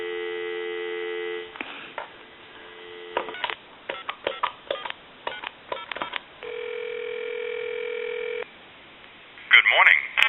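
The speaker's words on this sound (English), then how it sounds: "I'm going to give you some dial tone" Steady telephone dial tone on a line tied to a time-and-temperature number, checked during repair of a SofTel TeleQuest phone, heard in long continuous stretches broken by bursts of clicks and touch-tone dialing beeps.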